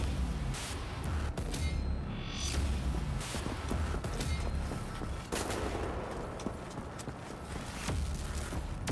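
Sustained enemy gunfire in the shooter Wolfenstein: The New Order, loud sharp shots cracking repeatedly over a dense, rumbling combat backdrop with no pauses.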